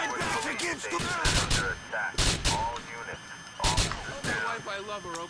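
Gunshots in a Grand Theft Auto: The Lost and Damned shootout, with a few scattered sharp bangs breaking through ongoing talk and game sound.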